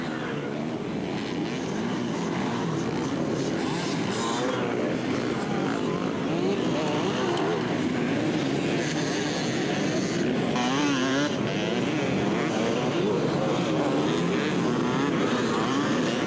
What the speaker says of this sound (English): is that a Husaberg 4-stroke?